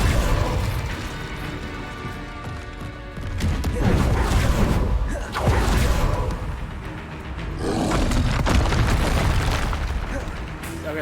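The Incendio fire spell blasts in Hogwarts Legacy, producing loud roaring, booming bursts that swell three or four times over a continuous game soundscape. A voice talks underneath at points.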